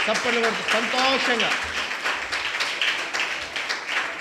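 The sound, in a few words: congregation clapping hands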